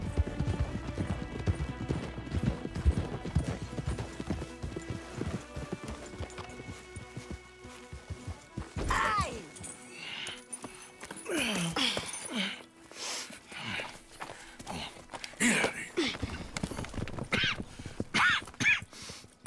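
Horse hooves clip-clop steadily on hard ground in the video game Red Dead Redemption 2, the rhythm turning more scattered later, mixed with shuffling and a brief snort or whinny.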